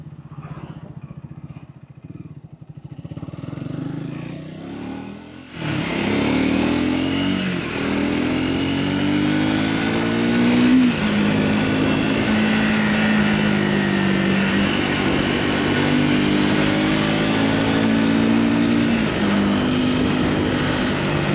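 A Triumph Speed 400 motorcycle rides along with steady engine drone and wind, gear and rev changes audible as the front brakes are applied hard; quieter road noise in the first few seconds before the loud, continuous close-up ride sound.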